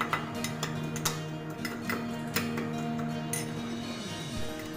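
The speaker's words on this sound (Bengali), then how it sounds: "একটা মশলা আমি থেতো করে নিচ্ছি। 2টো এলাচ দিলাম, 2টো লবঙ্গ, 1টা দারচিনি আর 5 থেকে 6টা গোলমরিচ" Whole cardamom, cloves, cinnamon and peppercorns are crushed by hand, giving irregular sharp taps and clinks close by over a steady low background hum.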